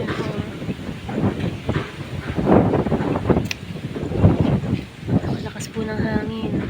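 Strong wind buffets the microphone in gusty rumbles while a person talks over it outdoors beside a rice field.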